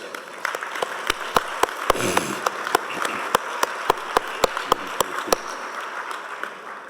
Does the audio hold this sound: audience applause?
yes